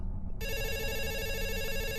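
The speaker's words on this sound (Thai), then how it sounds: "เป็นโทรศัพท์บ้านดัง" A home landline telephone rings steadily and loudly, its bell tone starting suddenly and then holding on without a break over a constant low background hum.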